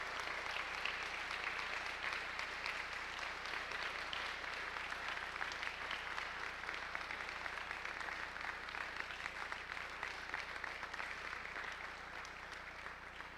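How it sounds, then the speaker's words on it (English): A crowd in a school gym at a high school basketball game gives sustained, steady applause for the Lenhardt family, with dense clapping filling the space for over ten seconds. "Let's give them a round of applause just for being here"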